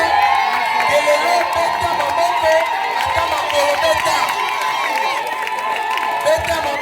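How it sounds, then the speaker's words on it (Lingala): A lively crowd at a family celebration cheers and applauds, loud shouts, whoops and clapping blending into a steady roar with voices rising over it. "Sous vos applaudissements"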